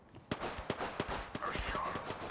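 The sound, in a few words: gunshots from the video game Apex Legends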